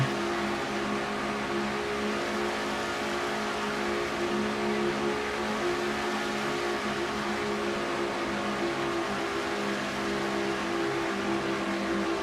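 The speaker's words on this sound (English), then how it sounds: "Inside with Jessica Shelton in car number 9" A stock race car engine in a racing video game drones steadily for the whole stretch, a constant mid-pitched roar with slight revving and no talk over it.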